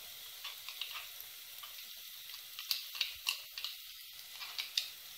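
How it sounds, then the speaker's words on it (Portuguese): Chopped onion and olives fry quietly in a pan for a carrot farofa, giving a faint, close sizzle with light crackles and occasional stirring taps. "E agora eu vou colocar a cebola para fritar aqui."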